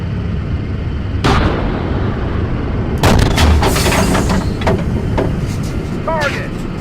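Tank cannon firing in the Steel Beasts simulation game, a heavy boom followed by a second loud blast with a rumbling tail, over steady engine noise, with a voice nearby.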